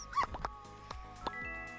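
A dog named Scraps barks a few short yips in the farming game My Time at Portia, close and moderately loud over light game music, with a brief voice mimicking the woof.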